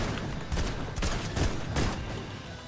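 Gunfire in the video game Fortnite, a sniper rifle shot among several loud sharp reports in a dense, busy battle mix, with sustained noisy action around the blasts.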